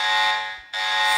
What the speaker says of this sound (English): Oh no, the alarms!